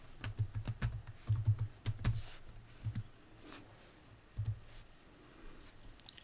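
Keys clatter on a computer keyboard while someone enters text into an Excel spreadsheet. Quiet, close clicks come in quick bursts early on, then taper to a few scattered taps.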